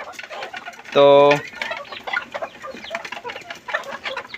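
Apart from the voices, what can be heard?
chickens clucking while eating feed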